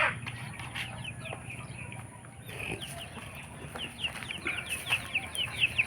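A flock of free-roaming backyard chickens clucks and chirps in short, repeated calls, growing busier toward the end over a steady outdoor background.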